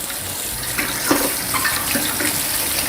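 Tap water runs steadily while rinsing parts of an Angel cold-press juicer, a continuous close splashing hiss with small shifts as the parts move under the stream.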